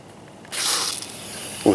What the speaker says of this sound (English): we have fresh water going through the hose into the top of the water inlet for that